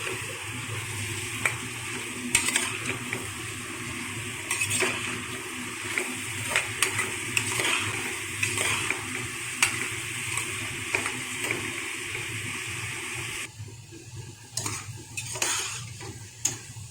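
Onions and green chillies frying in a pan for country chicken curry, a steady sizzle with repeated scraping stirs at an even rhythm. Near the end the sizzle drops away and leaves a few softer stirs, no speech.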